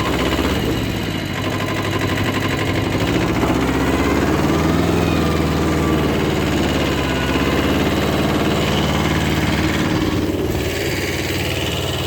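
A Kubota B5001 mini tractor engine idling outdoors, a steady low mechanical chug with vibration, constant and close, running alone without speech.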